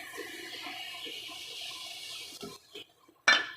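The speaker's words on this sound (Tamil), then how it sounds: "நம்ம வந்து இந்த புளி தண்ணியை இதில் சேர்த்துக்கலாம்." Tamarind water is poured into a pan of simmering ennai kathirikai kulambu, a steady liquid rush that runs about two and a half seconds, then stops, followed by a short clatter.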